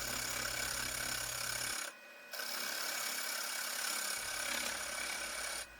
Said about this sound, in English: Now I'm just using a bedan tool